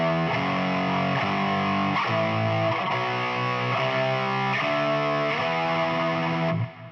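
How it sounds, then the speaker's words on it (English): Distorted electric guitar power chords stepping through the E Aeolian scale, each chord struck and held in an even, steady sequence of roughly a dozen changes, loud and alone before fading out. "If you played the entire scale with power chords, it would sound like this."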